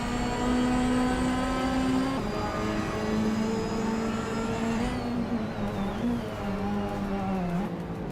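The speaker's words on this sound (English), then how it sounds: "he's in a 2012 Ford Focus RS Classic choice to kick things off at Nürburgring Vintage Suchlife" A 2012 Ford Focus RS race car at the Nürburgring in a racing video game, its engine droning loud and close with rising and falling revs as the gears change, other cars audible underneath.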